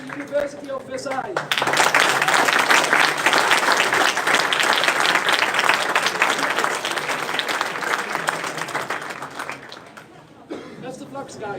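An audience at a university moot court competition breaks into sustained, loud applause for the University of Versailles team. A few seconds of voices come before it and after it.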